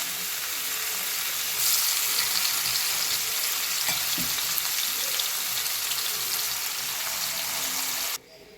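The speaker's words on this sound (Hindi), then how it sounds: "तो चिकन के पीसेस हम एक एक करके डालेंगे इसके ऊपर।" Chicken pieces fry in a few spoons of oil on a hot tawa, giving a dense, even sizzle up close that holds steady and then cuts off abruptly at the end.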